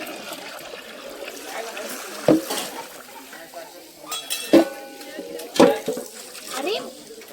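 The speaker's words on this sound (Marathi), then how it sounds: "हे बघा दीदी घासणार आहे टोप, मी फक्त पाणी टाकायचं काम करणार आहे." A cooking pot scrubbed at a washing spot while water is poured over it, giving a steady scraping rasp and several sharp metallic clinks and clanks, with splashing and trickling water throughout.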